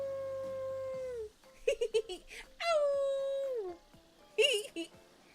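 Several characters howl together alongside a wolf pack in the dating-sim game Hooked on You: a long sustained howl, then short yips, a second long falling howl and a final burst of yelps, with voices imitating the animals.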